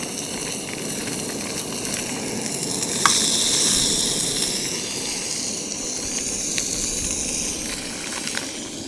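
Goat chops sear in hot olive oil in a pan: a loud, close, steady sizzle that flares sharply as the meat hits the oil, then settles into a constant hiss with occasional pops.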